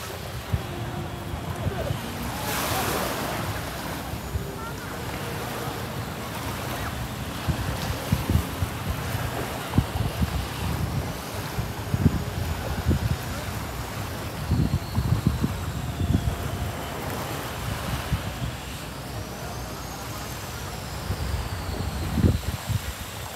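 A strong northeast monsoon wind, the amihan, buffets the microphone on Boracay beach with broad rushing gusts and surf, and low thumps rise and fall through the stretch with no talk.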